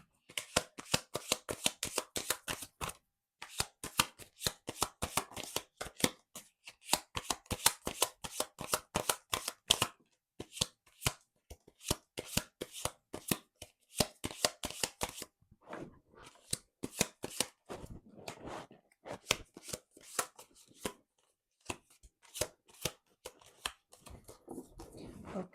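A deck of tarot cards shuffled by hand at close range: repeated bursts of rapid, crisp riffling and flicking separated by short pauses, with no talk.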